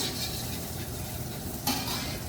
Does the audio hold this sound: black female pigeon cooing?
no